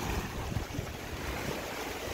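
Strong sea waves surge and crash inside a sea cave on the Coloane coast of Macau, a loud, continuous roar with rushing wind noise and churning water close by throughout.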